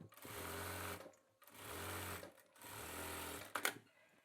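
A sewing machine stitches a men's kurta in three sustained bursts of fast, steady whirring, each about a second long with short pauses between, followed by a brief clatter at the end; loud and close, with no talk.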